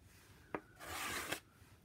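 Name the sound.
scraping shaving cream off card for marbling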